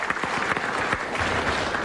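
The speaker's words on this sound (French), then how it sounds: "Et les applaudissements de la grande salle dans laquelle nous sommes aujourd'hui" Dense applause from a large audience filling the big hall at Bobino in Paris, steady and continuous throughout with no voices standing out.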